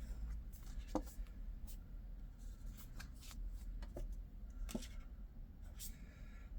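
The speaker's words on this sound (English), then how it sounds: "Gonna go ahead and pull some oracle cards here." Oracle cards shuffled and pulled from a deck, soft papery riffles and sharp little flicks and taps, close and fairly quiet, scattered irregularly across a steady low background.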